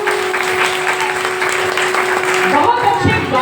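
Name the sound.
audience applause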